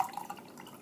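Hot herbal infusion pours through a strainer in a short, steady trickle with light splashing and dripping, close by and fairly quiet.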